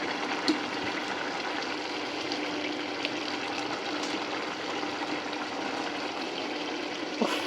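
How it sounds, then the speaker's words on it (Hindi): Water draining off soaked rice in a home kitchen, a steady gushing, trickling flow that carries on evenly throughout with a few faint clinks, fairly close. "पानी वाले चावल निकालने का वक्त हो गया है।"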